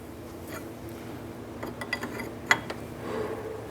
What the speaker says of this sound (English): We want to go ahead and break this jam nut free